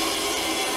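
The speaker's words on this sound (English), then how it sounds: "using the 3/4 inch resaw blade for this operation" A band saw fitted with a 3/4 inch resaw blade cuts through wood in a short, continuous, loud rasping whir, close up.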